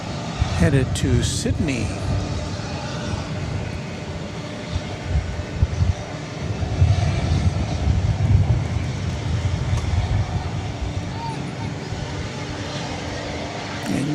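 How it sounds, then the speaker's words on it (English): A Qantas airliner's engines rumble and roar steadily while it passes at DFW Airport, loud and continuous throughout as a person talks over the noise. "Here comes Qantas Flight 8,"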